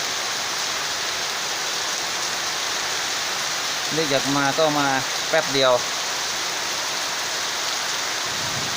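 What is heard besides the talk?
rain falling with wind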